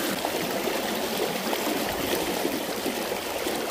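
Running stream water on the Yellow Breeches creek splashes steadily and close as hands are dipped and wetted, a constant bright trickling rush with no voices.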